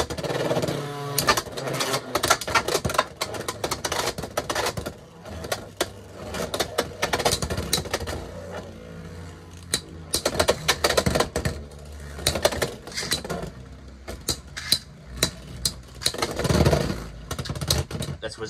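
Beyblade X tops launched into a stadium and battling, Tyranno Beat against Wizard Rod, giving dense, rapid metallic clattering and scraping with repeated sharp collision bursts throughout, loud and close, with a voice speaking at times.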